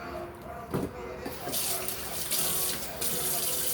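Water runs from a tap into a foil-lined pan of seasoned food, a steady close splashing pour that swells and continues throughout, with a brief bump near the start.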